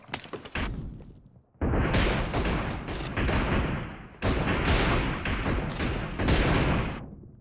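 Gunfire in a PUBG match: dense, loud bursts of automatic shots that come in long sustained volleys, broken by a brief pause and a sharp restart, then cut off at the end.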